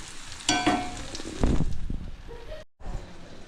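Onion frying in a pan with turmeric, coriander powder, garam masala and red chilli masala: a sizzling hiss with stirring scrapes in bursts, cutting out briefly near the end before resuming.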